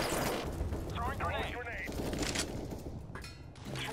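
Gunfire in a shooting video game crackles in bursts behind a talking commentator, with sharp shots and background rumble throughout.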